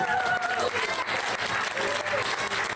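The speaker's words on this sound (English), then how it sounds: "Give Lloyd a round of applause." Dense, continuous audience applause fills the room throughout as a crowd cheers a musician at a live talk.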